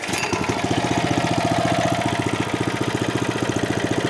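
A Kentavr walk-behind tractor engine runs steadily at close range, its single-cylinder putter thumping in a fast, even rhythm throughout with no talk over it.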